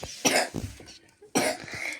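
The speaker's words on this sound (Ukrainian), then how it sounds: "не кашляй на мене" A cough sounds during play of the Roblox-style survival game 99 Nights, with two short bursts close by, the second after a brief pause.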